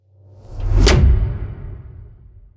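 A cinematic whoosh hit, processed with two serial OTT multiband compressors, rises into one punchy impact with a crisp top and heavy low rumble, followed by a dense, energetic tail that fades slowly; no voices.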